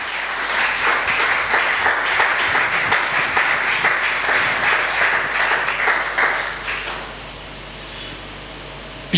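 A church congregation breaks into sustained applause, dense clapping filling the room evenly for several seconds before it quickly thins and fades to quiet room tone.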